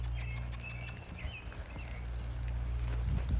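Horse hooves thud in a steady, rolling rhythm as the horse lopes during a riding session, close and fairly loud over a constant low hum.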